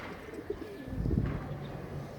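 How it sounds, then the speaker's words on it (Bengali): Pigeons kept at home give soft, low cooing close by, a brief muffled coo swelling in the middle of a quiet room. "এই যে কবুতরটা"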